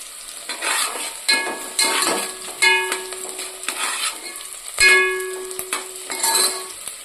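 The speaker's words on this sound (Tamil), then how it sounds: "நல்லா ப்ரௌனாக வர மாதிரி நல்லா பொரி வச்சுருக்கேன்" Food frying in a pan until browned, with steady sizzling broken by repeated stirring scrapes and occasional light clinks of a utensil against the pan, close and alone with no talking.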